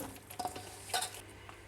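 Spiced mutton handi masala stirred in a pot, with a spoon scraping and clinking against the metal in a few short strokes over a faint sizzle.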